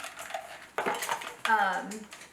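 A spoon clinks and scrapes against a bowl while stirring soft cream cheese for a no-bake taco dip, in a few short close-up bursts of utensil contact.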